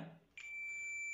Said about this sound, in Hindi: बज रहा है मतलब कि हमारा मल्टीमीटर बीप कर रहा है